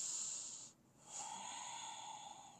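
A person breathes during a Pilates stretch: a sharp airy exhale at the start, a brief pause, then a long steady breath trailing off, close and quiet with no talk.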